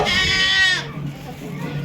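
Goats bleat loudly and repeatedly for about the first second, then a person talks over low background noise as the bleating stops.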